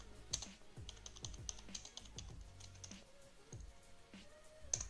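Close, quiet clatter of a computer keyboard as a search is typed, a steady run of quick key clicks with small pauses and no talking.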